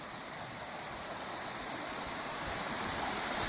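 A rain-flooded river in Idukki surges past in a broad, constant rushing roar, heard at a moderate distance, with no talk and the steady torrent slowly swelling slightly louder.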